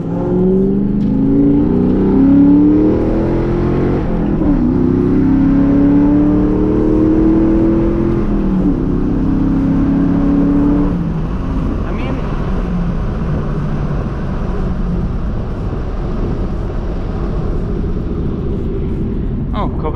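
Mustang with a 502 engine cruising on country roads, its steady engine drone and rising, shifting rev tones running throughout, louder in the first half and settling into a lower hum later.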